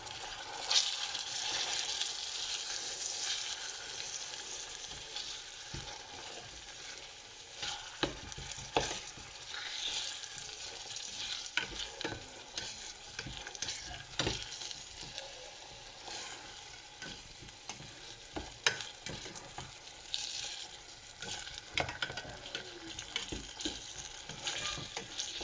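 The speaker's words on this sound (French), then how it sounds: "Et on va mélanger." Diced tomatoes fry in a pan with a constant sizzle while a utensil stirs them, giving frequent irregular scrapes and clinks close by over the steady hiss.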